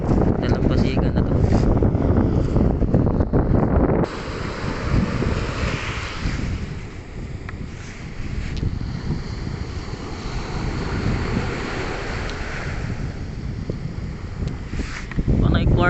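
Wind buffets the microphone and surf washes along a beach while rockhounding. There is heavy rumbling gusting throughout, strongest at the start and end, and a voice talks over it.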